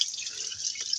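Water dripping and trickling while clothes are washed by hand, a brief close wet splash with a short spattering drip near the end.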